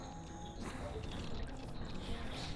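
Water churns from the water wheel in Great Bay Temple in The Legend of Zelda: Majora's Mask, a continuous rushing and splashing that grows fuller partway through, with no talk.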